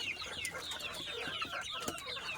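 A hen, a Rhode Island Red type, clucks in repeated short, throaty calls, close by, with other farm fowl faintly in the background.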